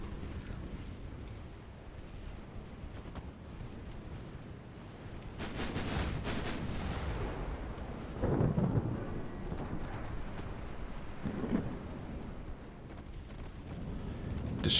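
Warship secondary guns fire in a Greek naval campaign video game, heard as deep, rumbling booms that roll in every few seconds over a low, continuous battle din.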